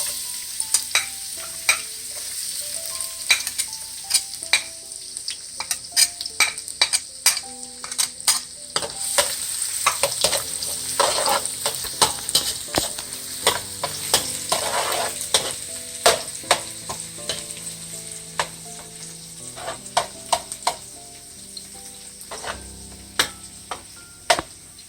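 Garlic sizzles steadily in hot oil for pancit bihon guisado, with a spatula scraping and clicking against the pan in frequent irregular strokes, close and fairly loud, no voices.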